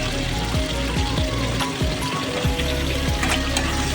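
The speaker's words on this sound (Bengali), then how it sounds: "পটল আর আলুটা ভালো করে ভেজে নেব।" Pointed gourd and potato pieces frying in hot oil in a pan, a loud, dense, continuous sizzle up close with brief stirring scrapes.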